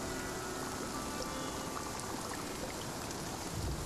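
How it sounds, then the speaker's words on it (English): Steady rain falls in the game Spiritfarer, a soft, even hiss of drops spread across the whole clip, with no break and no voices. "I love rain so much, I can stay under it for days."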